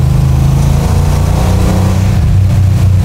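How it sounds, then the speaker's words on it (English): A 1969 Dodge Charger muscle car engine revs hard under acceleration, a loud, steady, close-up roar that fills the whole short stretch without pause. "This engine loves being opened up."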